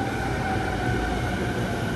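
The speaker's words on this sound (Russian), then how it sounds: "Ну что, моя электричка." A steady, loud rumble of a Japanese commuter electric train rolling along, continuous and close, with a faint tonal hum and no voices.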